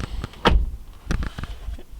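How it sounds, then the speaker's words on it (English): The door of a 2020 Ford Raptor pickup shuts from inside the cab, giving a solid, close thump followed by a few softer knocks and rustles. "let me close the door on up"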